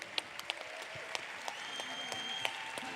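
Audience applause at a stage show, the Redken 5th Avenue NYC premiere on the Orlando main stage: scattered, crisp claps rise and fall over about three seconds at moderate distance, with no speech.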